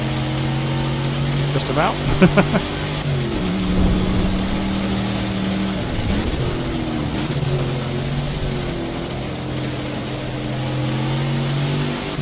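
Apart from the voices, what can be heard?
Ford Mustang engine roaring, racing video game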